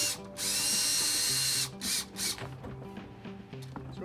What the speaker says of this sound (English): Putting in our last couple screws.